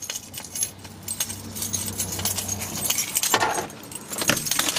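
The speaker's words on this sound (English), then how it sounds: "Now what I do is I put my keys in" Keys jangle and clink close up as they are pushed into the ignition of a 1995 Ford F-150, with irregular metallic rattles and scrapes over several seconds.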